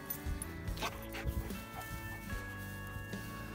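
A dog out on a shed antler hunt gives short yips, barks and whimpers amid rustling and wind, with background noise and a steady tonal hum running underneath.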